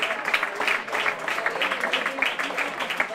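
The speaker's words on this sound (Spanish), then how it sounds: "Se marcha Gasama, aplaudido." Crowd applauding a substituted player leaving the pitch at an amateur football match, steady dense clapping from spectators nearby throughout, with some voices mixed in.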